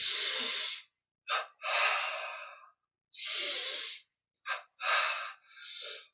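Loud, close breaths during a yoga-style breathing exercise with hand weights, long airy exhales alternating with short sharp intakes and brief pauses between them.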